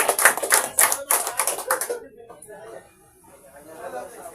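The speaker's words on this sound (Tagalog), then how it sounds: "Sige po, sabay-sabay po na palakpak" A church congregation at an anniversary testimony service claps together in unison, a run of loud rhythmic claps for about two seconds that then stops, leaving soft voices and room murmur.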